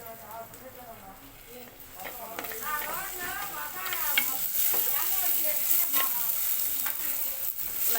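Pieces of fish are turned over in a pan, with sizzling and stirring scrapes that grow louder partway through as they fry, while someone talks over the cooking.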